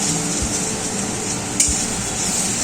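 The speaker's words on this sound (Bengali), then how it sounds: "এবার দিয়ে দিচ্ছি পেস্ট করা বাটা মশলা। নেড়ে চেড়ে নিচ্ছি।" Spice paste added to hot mustard oil in a pan and stirred, a steady frying sizzle with occasional scrapes and a sharp clink of the spoon against the pan.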